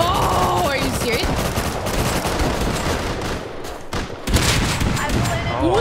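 A loud, dense volley of video game gunfire, with rapid shots and bursts of automatic fire that run almost nonstop. There is a brief lull near the middle, and the shooting then resumes amid the game's other effects.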